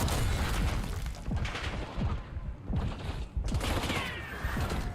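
Rapid gunfire bursts from a first-person shooter game, repeated close shots crackling over a dense, busy background of game noise and effects.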